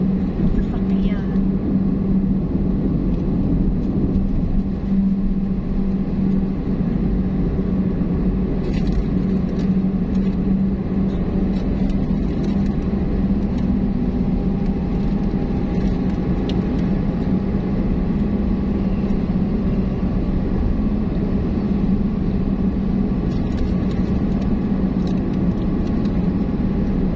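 A car cruises along the SCTEX expressway with a steady, loud engine and road drone and continuous tyre rumble. The hum stays even throughout, with faint passing swells.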